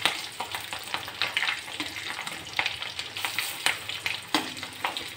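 Boiled potatoes fry in hot oil in a pan, a steady crackling sizzle with soft scrapes and clinks from turning them, continuous and close with no talk.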